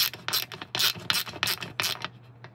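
A 72-tooth mini double-direction ratchet screwdriver handle turning a socket, giving a close, crisp run of rapid ratcheting clicks in about six quick bursts, then a single fainter tick.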